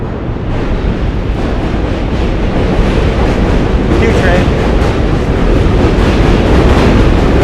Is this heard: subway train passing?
yes